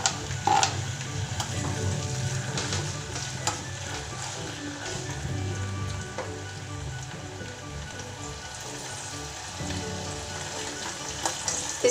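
Aloe vera pieces and amla cook in oil for homemade hair oil, a continuous, close frying sizzle with faint popping and stirring and no talking.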